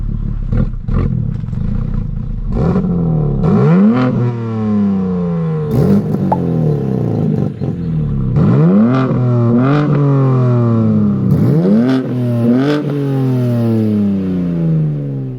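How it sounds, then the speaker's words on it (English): BMW M3 engine revving while its oil level is being checked, several rising and falling rev sweeps in repeated bursts, loud and close with no talking. "That's interesting that the RPMs go up when it's checking the oil."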